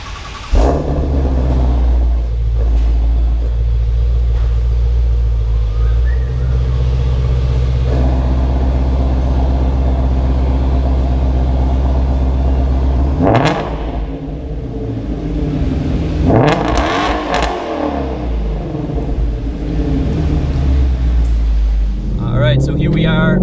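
A Shelby GT350 engine rumbles low and steady while the car is driven, with a whooshing swell of passing air or revving midway and near the end, some voice mixed in.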